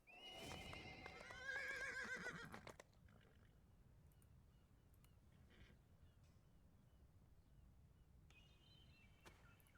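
Video game horse whinnies loudly for a few seconds over clip-clopping hooves, then fades to a quieter steady gallop-like ambience under a faint game soundscape.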